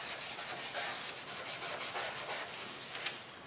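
A DA sander works over truck sheet metal with a steady, close rasping scrub, its pulsing rhythm continuous for a few seconds, fairly quiet and with no voices.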